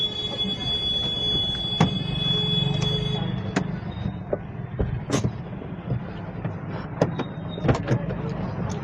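A car eases to the roadside beside the Hindaun roadways bus stand in Rajasthan. A steady low road rumble carries scattered clicks, knocks and faint squeaks throughout, with no clear talking.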